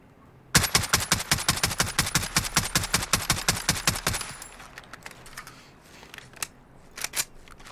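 A VKS rifle in Call of Duty Modern Warfare fires rapid single shots, about twenty sharp cracks in a fast steady rhythm, then a few scattered shots trailing off amid quieter background noise.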